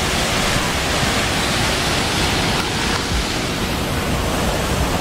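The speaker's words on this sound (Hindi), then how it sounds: "और ये उसका स्पिलवे जहाँ से इसका पानी बाहर जाता है।" Water pouring steadily over the spillway of Katora Lake, a mountain lake in Upper Dir, Pakistan, forms a loud, continuous broadband rush with no pauses and no voices.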